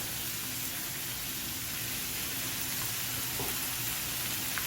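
Chicken pieces seasoned with salt and pepper fry in a pan for soup, giving a steady, soft sizzle that runs alone the whole time with no one talking.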